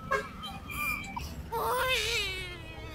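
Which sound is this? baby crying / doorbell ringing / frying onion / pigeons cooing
baby crying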